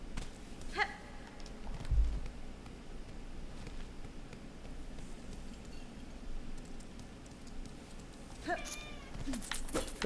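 A pet cat meows a couple of times, briefly near the start and again near the end, fairly close over a steady low background hum.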